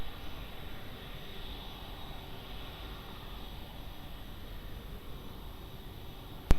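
An airliner takes off from runway 02 at Lisbon Airport, a steady broad roar of engine noise heard at a distance. A single sharp click comes at the very end.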